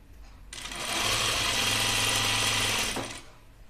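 A sewing machine runs a steady, continuous stitching burst of about two and a half seconds through wrap dress fabric backed with stout interfacing, then stops. It is fairly close, with no talking.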